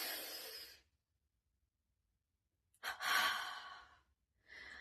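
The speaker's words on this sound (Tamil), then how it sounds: "மூச்சை உள்ள இழுத்து மொத்த பாடியும் நல்லா டைட் பண்றீங்க. டைட் பண்ணிட்டு மூச்சை வெளியே விடும்போது பாடியை நல்லா ரிலாக்ஸ் பண்றீங்க." Deep relaxation breathing: one long exhale fades out, and after a pause of silence a sharp, strong breath follows with a breathy whoosh, then another begins. The breaths are close and quiet, and there is no talking.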